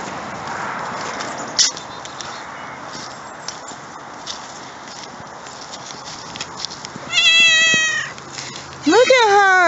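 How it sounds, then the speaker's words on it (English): A cat meows twice, with drawn-out, wavering cries near the end over a quiet indoor background, and people speak softly beforehand. "Look at that cat."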